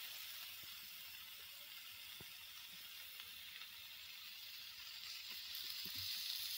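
Puffed rice and yogurt snacks fry in a little oil in a pan, a faint, steady sizzle and hiss with occasional tiny pops, heard alone without talk.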